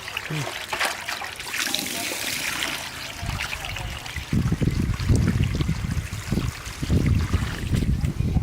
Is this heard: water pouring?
yes